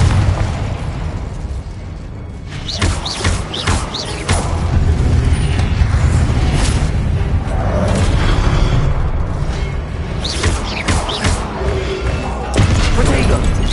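Confringo fire spell blasts in the Hogwarts Legacy video game, a string of loud booming bursts and thuds over a dense, busy battle soundscape with voices mixed in.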